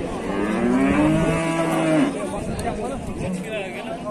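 A cow at a busy livestock bazaar lets out a long, loud, drawn-out moo up close, followed by a shorter lower call, while people talk and chatter nearby.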